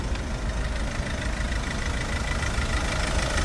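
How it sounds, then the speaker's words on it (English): A car engine idles steadily and evenly with no knocks, bangs or rattles, a constant close rumble with broadband noise throughout and no talking. "the car has been running since the start of the video, so as you can hopefully hear, there's no knocks, bangs or rattles"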